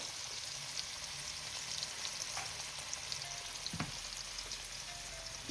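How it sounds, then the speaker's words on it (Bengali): Potatoes frying in a pan of oil with salt and turmeric give a steady, fairly quiet sizzle, with an occasional soft spatter or clink rising briefly above it, and no voices. "আলুগুলোকে বেশ লাল লাল করে ভেজে তুলে নেব"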